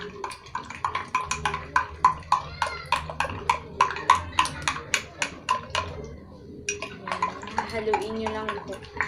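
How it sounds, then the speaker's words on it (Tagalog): Dalgona coffee mixture being stirred briskly in a cup or bowl, a steady train of sharp clinking and scraping strokes in quick rhythm, close and fairly loud, with a voice talking throughout. "Basta haluin niyo siya."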